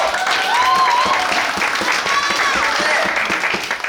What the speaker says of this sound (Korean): 그래, 박수 한번 주십시오.